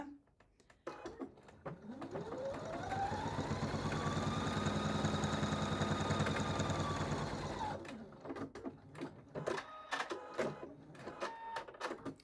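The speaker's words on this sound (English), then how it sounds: "I'm going to just sew that down with my 1/4 inch seam" A sewing machine runs a 1/4 inch seam along a fabric strip for a needle book cover, its motor whirring up to a steady, rapid stitching drone for several seconds before stopping, followed by scattered clicks and handling noises.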